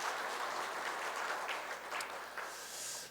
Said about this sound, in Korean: 우리 임마누엘 찬양대를 위해서도 큰 박수 한번 하겠습니다.